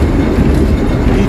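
The Matheran toy train rumbles along its rails through hill-station forest, a loud, continuous low clatter of wheels from close by.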